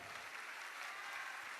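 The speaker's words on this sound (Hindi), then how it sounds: "जोरदार ताली बजाइए।" An audience at a Hindu religious gathering breaks into loud, dense applause, with steady clapping from many hands filling the space and no other sound over it.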